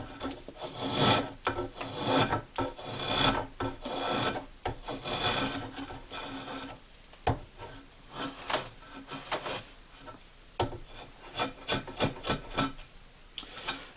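A wooden boomerang blank is shaved down with steady, rhythmic rasping strokes of a blade against the wood, close and loud, with no speech.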